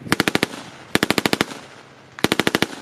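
Three rapid bursts of live-round machine-gun fire during a military training exercise, each string of about six to eight sharp, evenly spaced shots, heard at moderate distance with short quiet gaps between bursts.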